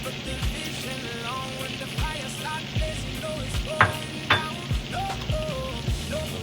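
Shredded garlic and a little onion sizzle steadily in a pan in a hotel kitchen, with scraping stirs and utensil taps every second or so over the continuous frying hiss.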